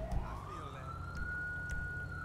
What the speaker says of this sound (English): I'm hearing the siren on this.